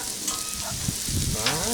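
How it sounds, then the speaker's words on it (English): Mushrooms sizzle on a hot Blackstone griddle as cheesesteaks are made, with a steady close frying hiss and a few soft stirring scrapes throughout, and no voices. "Alright, now I'm going to add the mushrooms."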